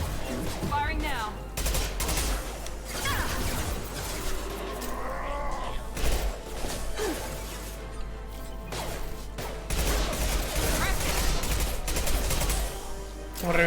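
Sniper rifle gunfire rings out in the video game Mass Effect 2, with loud, dense shots and crashing impacts mixed with busy game sounds throughout.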